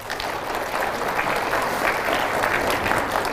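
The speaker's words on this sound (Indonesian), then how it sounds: "Mana tepuk tangannya?" Steady applause from an audience at a live anniversary gathering in a Jakarta park, dense and even throughout with no pauses or voices on top.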